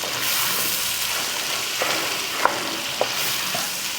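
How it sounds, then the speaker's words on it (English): Onions sweating over low heat in a pot, a steady close sizzle that continues throughout, with a few faint clicks and a stirring scrape rising above it, no talking. "I'm going to go for a nice low onion sweat so we get all that flavor out of there"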